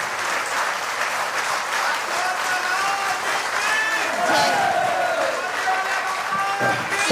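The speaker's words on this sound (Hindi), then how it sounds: "हाथ की ताली।" A large crowd at an open-air religious gathering claps together in a sustained, dense roar of hands that holds steady for several seconds, with voices calling out over it.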